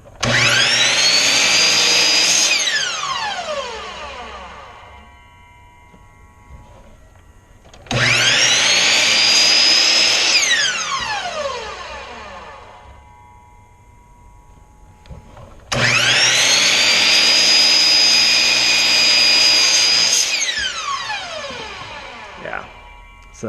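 A miter saw cutting wood for a herringbone box: three separate cuts, each a loud whining blade spin-up that rises into a cut and then winds down, with quieter gaps between them.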